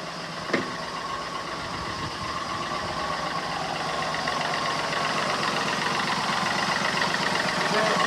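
A Chevrolet Beat diesel engine with a fuel temperature sensor high-voltage fault turns over with a short clatter and settles into a steady, rumbling idle that continues throughout.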